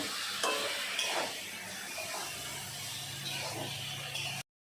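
Ginger, garlic, onion and spices frying for a jackfruit and prawn curry, a steady close sizzle broken by scraping stirs of a spatula in the pan, with no one speaking, ending abruptly.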